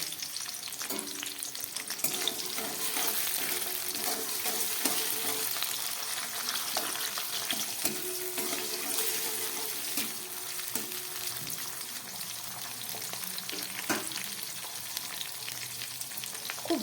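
Chopped tomato fries in a pan over low gas for a vegetarian chilli paneer, giving a steady close sizzle with occasional stirring clatter throughout.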